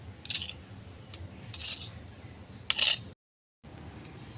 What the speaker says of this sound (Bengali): একটা চামচের সাহায্যে আমি লঙ্কা বাটাটা তুলে নিচ্ছি